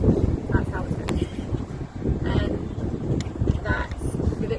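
Gusty outdoor wind ahead of a storm buffets the microphone with a loud, rumbling roar that rises and falls, while a voice speaks intermittently underneath.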